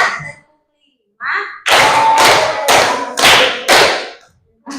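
A group claps along in a counting clap game in a classroom, five loud, sharp claps in a steady beat after a brief pause, near and clear, with a faint voice before them.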